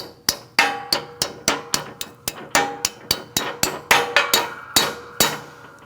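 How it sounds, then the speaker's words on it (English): A front wheel bearing is hammered into the steering knuckle of a 2002-2006 Toyota Camry, with about twenty sharp metallic taps at an even, fairly quick pace, close and clear with nothing else heard. "Hold it still and just tap it in all the way around."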